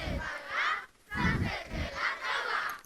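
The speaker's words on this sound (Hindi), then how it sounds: "चलो एक साथ चिल्लाते हैं" An audience at a BHUFESTO 2023 event shouts together in loud, sustained bursts, roughly four waves of massed voices with a brief lull after the first.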